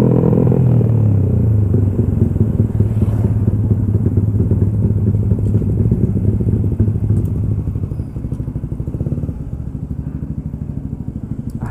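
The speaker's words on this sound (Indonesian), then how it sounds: "Ah, berisik banget motorku," An MX King motorcycle engine with an aftermarket exhaust rumbles loudly and close up at night, a rough throbbing idle that steadies and eases slightly toward the end, with no talking.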